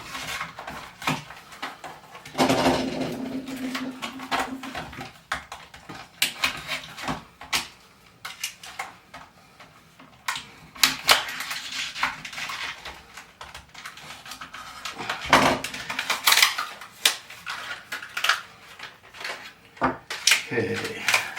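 A Doyle razor knife cutting open a plastic blister pack, irregular crinkling, snapping and scraping of stiff plastic in bursts with pauses, close by, with occasional handling knocks.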